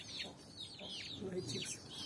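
Newly hatched Aseel chicks and hen cluck and chirp softly at close range, several short overlapping calls over a quiet background.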